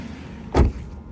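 A Tesla Model 3 car door shuts with a single short, dull thud against a steady background hum. It sounds close, with no talk.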